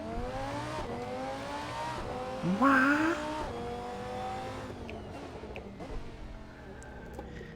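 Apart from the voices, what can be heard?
SuperTrofeo race car engine revving in a racing video game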